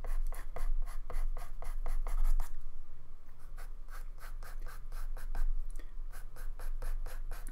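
Pastel stick scratching across pastel paper in quick, rhythmic strokes, close and crisp, pausing briefly midway before the steady rubbing resumes.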